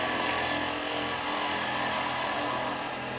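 Bowl gouge cutting a wooden bowl on a lathe, a continuous close buzzing scrape with the steady whir of the spinning machine, even in level across the short stretch.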